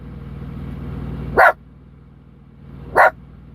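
Two sharp dog barks about a second and a half apart ring out over a low rumbling engine drone.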